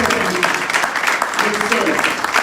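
Applause from a church congregation cheering for Jesus, a dense, continuous patter of clapping that stays loud for the whole stretch, mixed with a voice.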